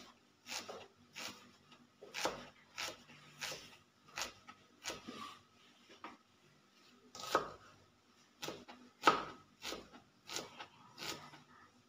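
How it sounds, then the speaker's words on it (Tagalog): A knife chops onion on a cutting board while a cabbage stir-fry is being prepared, a series of close, crisp chops in irregular bursts across a quiet kitchen, without speech. "Tapos na tayo maghiwa ng sibuyas sa dating bawang guys."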